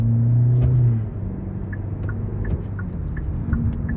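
A 2023 Hyundai Elantra SEL with a 2.0 engine and CVT in sport mode accelerating, a steady low engine drone from inside the cabin that eases after the first second and then holds, with faint ticking clicks and no talk.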